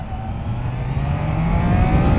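A new motorcycle still in its break-in period revs its engine, a steady, loud, rising engine drone building over about two seconds with no talking.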